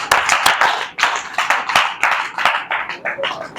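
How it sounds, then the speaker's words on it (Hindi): A church congregation at a Sunday service claps in uneven bursts, several sharp hand claps blending into a loose round of applause close by, with a voice talking over parts of it. "ताली बजाओ परमेश्वर के लिए।"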